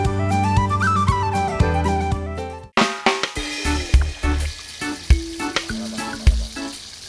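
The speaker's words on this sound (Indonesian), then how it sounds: "ikan kita goreng dulu setengah matang." Fish marinated with salt and lime juice fries half-cooked in hot oil, giving a crackling sizzle that starts abruptly partway through, beneath music playing throughout.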